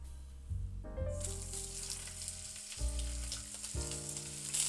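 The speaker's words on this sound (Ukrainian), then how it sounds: "Додаємо олію на розігріту сковорідку і перекладуємо сюди" Shrimp sizzle and crackle loudly in hot oil in a preheated frying pan, a steady close-up frying hiss with faint clinks as they are added.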